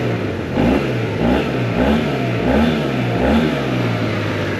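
A Yamaha T-Max 560 scooter engine on its stock exhaust revs repeatedly in rising and falling pulses, fairly near and steady, with no voices.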